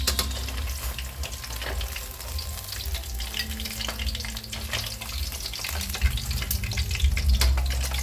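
Milkfish (bangus) frying in hot oil gives a steady, dense crackle and sizzle throughout, close and fairly loud, with a few sharper pops near the end as the fish is lifted from the pan.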